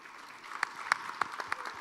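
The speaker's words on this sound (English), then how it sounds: "Let's give them a round of applause." A scattered round of applause from a conference audience for a panel at a sustainable energy week event, with a few sharp, distinct claps standing out over a soft, fairly faint patter.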